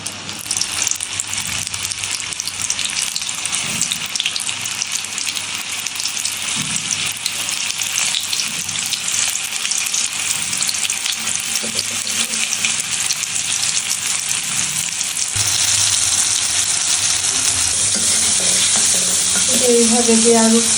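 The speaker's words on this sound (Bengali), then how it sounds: "আমি সব কিছু মাখিয়ে নিয়ে রেডি করে এবার তেলের মধ্যে ডুবো তেলে দিয়ে দিলাম" Chicken popcorn deep-fries in a pot of oil, giving a loud, continuous bubbling sizzle up close that swells a little stronger near the end, with occasional stirring and no talking.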